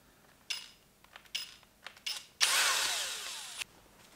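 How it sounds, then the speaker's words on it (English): A power drill bores into plasterboard during a DIY ventilation install, starting with a few short bursts and then running in one sustained, louder whine for about a second before stopping. "I'm going to go ahead and drill"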